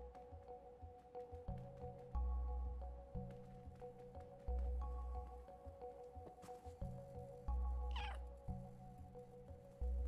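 A cat meows repeatedly in the video game Stray, several short clear meows spaced a second or two apart over a low steady game ambience, with no talking.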